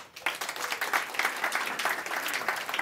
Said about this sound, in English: warm applause for Isabel